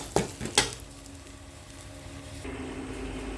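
Rice being mixed with puliyogare powder in a pan, opening with two sharp scraping clanks of a spoon against the pan, then quiet soft stirring and a faint rustling hiss.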